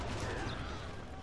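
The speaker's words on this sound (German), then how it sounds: "Da kommen jetzt so viele Salven nochmal. Also viele Schüsse." Musket volleys of gunfire in the Shogun 2 Total War video game, a faint, dense crackle of many overlapping shots rolling on without pause.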